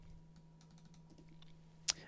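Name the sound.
computer keyboard typing and mouse clicking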